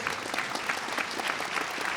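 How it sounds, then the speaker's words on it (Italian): At a gala concert for an international piano competition, the audience gives a final round of applause for the participants. It is a thick, sustained clapping crowd that stays steady and even throughout. "per un ultimo applauso"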